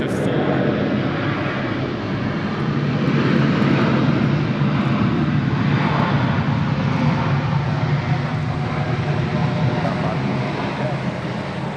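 Loud, continuous roar of an airliner landing on runway 16 right at Sydney Airport, a broad engine and rumble wash lasting the whole clip with no break, close and heavy, with faint radio-style voices underneath.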